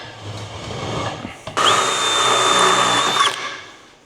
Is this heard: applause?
no